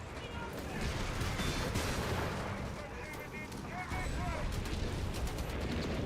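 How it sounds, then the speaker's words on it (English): Italian Obice artillery barrage in Company of Heroes 3, a dense run of booming blasts and crackling gunfire rolling on across the stretch, with a voice commenting over it. "Another barrage coming in here from the Obice"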